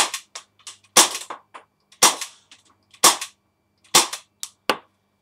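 An M92 gas airsoft pistol fires a series of sharp, close cracks, roughly one per second, each followed by faint mechanical clicks and brief echo in a quiet space.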